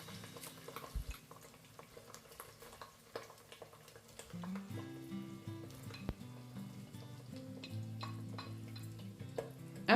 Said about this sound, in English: I now empty the oysters into the hot oil.